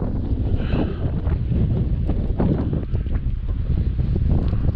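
Strong wind blowing outdoors around a ham radio antenna on a pole, loud continuous buffeting with gusty rumbles against the microphone and no talking.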